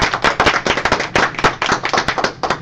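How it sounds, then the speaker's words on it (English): A seminar audience bursts into a short round of applause: many hands clap close and loud in a dense, rapid patter, with no talking. "let's give her a big round of applause again."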